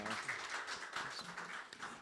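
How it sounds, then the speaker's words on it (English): Faint, distant audience applause for a panel at a logistics conference, a thin continuous patter of clapping with some murmuring mixed in. "Please give the panel a round of applause."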